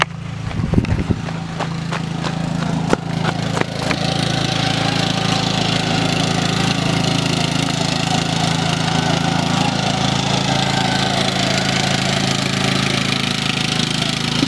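Lawn mower engine running on muddy ground, a steady, loud mid-pitched drone throughout with a few sharp knocks and clatters near the start before it settles into a continuous hum.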